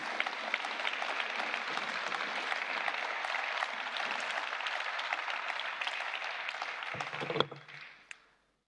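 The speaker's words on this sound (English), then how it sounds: "Thank you for your applause." A parliamentary audience applauds a State of the Union address by Jean-Claude Juncker, sustained even clapping at moderate distance that stops abruptly near the end, leaving a couple of stray claps.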